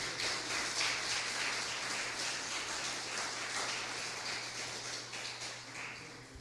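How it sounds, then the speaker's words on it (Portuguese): Church congregation clapping together during a worship service, a dense steady patter of many hands filling the room at an even level, with a low constant hum beneath and no voices standing out. "Palmas bem alegres para Jesus"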